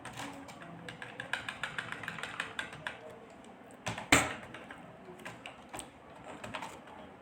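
Someone types quickly on a computer keyboard while writing C++ code. The keystrokes come in a fast, faint burst, followed by a few scattered clicks and one sharper knock.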